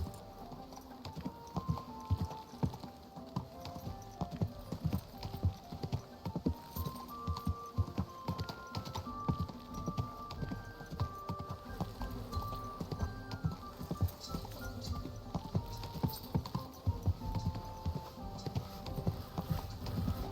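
Quiet, steady horse hoofbeats clip-clop in a continuous rhythm in the video game Kingdom Come: Deliverance II, with faint background ambience and a few soft tonal sounds layered underneath.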